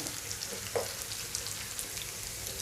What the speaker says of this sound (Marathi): आता हे थोडंसं अजून आपल्याला भाजू देऊया